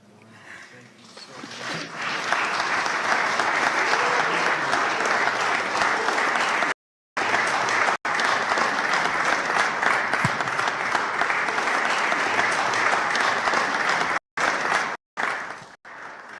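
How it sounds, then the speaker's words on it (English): An audience at an interfaith conference breaks into sustained, dense applause that swells within two seconds and holds steady, with brief abrupt cutouts in the recording and a few muffled voices underneath. "Give her a wonderful hand clap"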